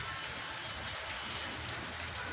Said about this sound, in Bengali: সারা রাত বৃষ্টি হচ্ছে।